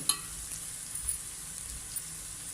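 Spices like turmeric and coriander powder frying in a pan for green chilli chicken, giving a faint, steady sizzle with a few light clinks near the start.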